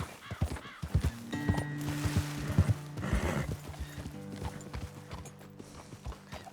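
Horse hooves clip-clop in the Red Dead Redemption 2 video game, several animals stepping in an uneven walking rhythm with an occasional whinny, layered over steady music-like drones.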